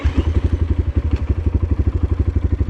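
Motorcycle engine ticking over in first gear during wheelie practice, a fast, even pulsing thump close by, loud and alone with no talk.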